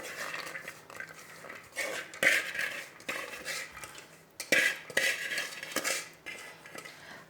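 Half a kilo of soaked chana dal lentils tipped into a bowl for chicken and potato kababs: soft wet clattering and scraping against the dish, with two sharper bursts of activity amid quieter handling.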